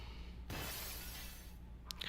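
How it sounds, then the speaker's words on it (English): Glass shatters in the video game Silent Hill Homecoming: one loud, sudden crash followed by about a second of scattering, tinkling shards over a steady low in-game hum, with a few faint clinks near the end. "And then just break through the glass."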